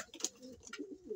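Fancier pigeons give soft, low coos in a short, quiet sequence of repeated murmuring calls, fairly close.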